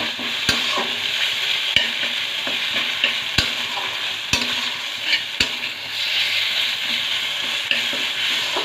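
Okra being stirred in a sizzling mustard-poppy seed masala with added water, a continuous frying hiss with sharp periodic clacks of the spoon against the pan.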